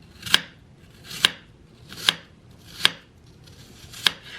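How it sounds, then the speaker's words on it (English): Peeled apples sliced thin with a knife, five sharp, evenly spaced cuts landing against a board at a steady rhythm, close and distinct with quiet gaps between strokes. "So I'm gonna slice these thin"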